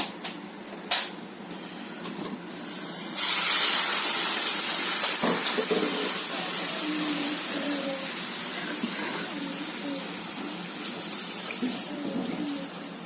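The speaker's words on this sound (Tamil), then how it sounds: "அரை லிட்டர் பால் ஊற்றிருக்கேங்க இப்போ இதை நல்லா காசிக்கலாங்க" Half a litre of lightly boiled cow's milk poured over carrots for carrot payasam, a loud steady hissing pour that starts abruptly after a few quiet seconds and runs on, with no talking.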